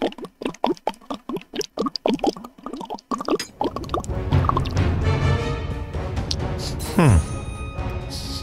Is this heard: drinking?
yes